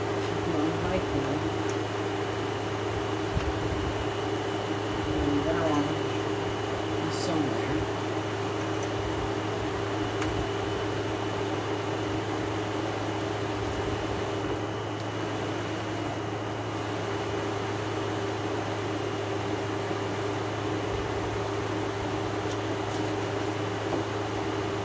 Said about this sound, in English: Well, the air conditioner is running.